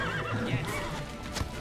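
Horse in the video game The Witcher 3 neighing with a clear whinny, alongside clip-clop hoofbeats over a steady game background, close and moderately loud.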